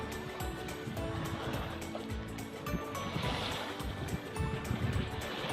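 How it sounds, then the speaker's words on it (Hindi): Water rushing at Dhani Waterfall in Kashmir, under light drizzle among green hills, a constant dense roar of flowing and splashing water that fills the whole clip without pause. "ये आई थिंक के पानी की आवाज़ भी आप सुन सकेंगे।"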